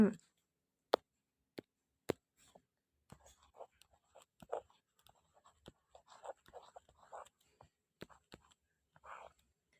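A pen writes a math solution by hand on paper, with sparse sharp taps and scratchy strokes, close and quiet, under soft, breathy speech.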